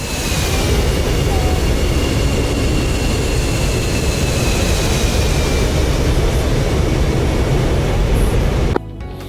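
Loud, steady jet engine roar from a fighter landing at an airbase in a flight simulator game, continuous for several seconds before cutting off abruptly near the end, with radio-style voices over it.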